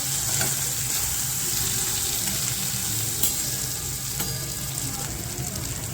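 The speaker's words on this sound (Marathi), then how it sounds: "धण्या जिऱ्याची पावडर एक चमचा सर्व व्यवस्थित परतून घ्यायचं" Okra with red chilli and coriander-cumin powder sautéed in a pan, a constant close sizzle of frying with a few scraping stirs and clinks on top.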